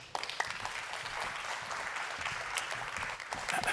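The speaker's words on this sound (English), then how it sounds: "join me in giving a warm welcome and a round of applause" Audience applause in a conference hall at an internet governance conference in Oslo: steady dense clapping throughout, moderately distant and even in volume.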